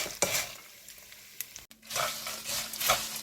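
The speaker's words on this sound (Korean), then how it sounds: "맛있게 지금 튀겨지고 있죠" Chili pepper fritters fry in oil over low heat as they are stirred in a pan, giving a soft, close sizzle broken by light scraping and tapping from the stirring.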